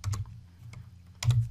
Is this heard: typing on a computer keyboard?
yes